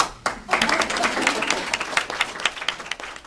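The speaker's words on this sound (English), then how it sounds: "So I usually like to give myself a round of applause." A group at a testimony gathering breaks into applause, a sudden swell of many hands clapping close and loud with some voices mixed in, then holding steady.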